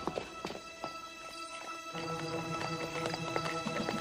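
Horses' hooves clip-clop in a French cartoon about Robin Hood in Sherwood, a quick series of crisp hoof knocks over a soft musical background with held tones.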